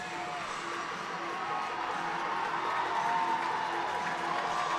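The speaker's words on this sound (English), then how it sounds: "You hear the applause for Michigan Tech trying to rally their troops" A hockey game crowd at a Michigan Tech rally gives steady, distant applause and cheering that carries on throughout, with a broadcast voice talking over it.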